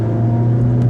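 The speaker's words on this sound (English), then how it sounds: "Straight away, go, punch it, Margaret, punch it!" A 2015 Chevy Equinox at full throttle makes a loud, steady engine roar with strong low rumble and a rising drone, heard from inside the cabin in a short burst without speech.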